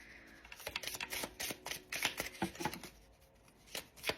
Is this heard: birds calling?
no